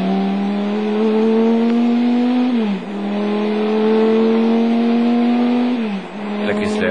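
A Chrysler Viper GTS-R race car, the Viper Team Oreca entry at the 1999 Le Mans 24 Hours, holds a loud droning engine note, dipping briefly twice as it shifts or brakes, with commentary talk running over it.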